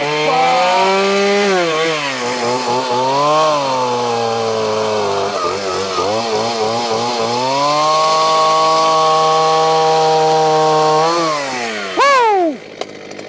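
Retro Husqvarna 40 chainsaw running and revving hard, its two-stroke engine rising and falling in pitch as it cuts a tree branch, loud and close, then dropping to idle and sputtering near the end.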